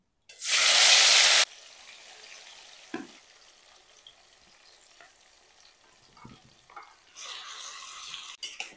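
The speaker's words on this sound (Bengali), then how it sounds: "এখন মাংসটা কড়াইতে দিয়ে দেব।" Marinated chicken dropped into a hot wok of oil bursts into a loud, close sizzle for about a second, then settles to a quieter fry with occasional clatters and a second burst of sizzling near the end.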